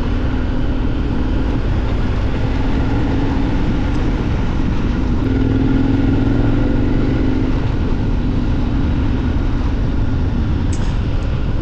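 A motorcycle on Mitas E07+ tyres rides along a road, a loud, constant engine drone with heavy wind and road rush heard from the rider's position.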